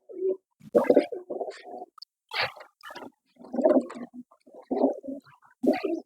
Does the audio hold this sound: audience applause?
no